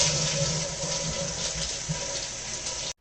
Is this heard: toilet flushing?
yes